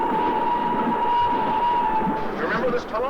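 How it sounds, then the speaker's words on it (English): A fast-moving train rushes past in a TV episode, a steady rumbling roar with a sustained whistle-like tone, partly under people talking. "That train's going like a bat out of hell."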